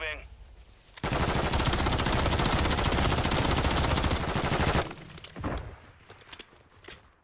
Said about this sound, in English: Oh, careful, that's sniping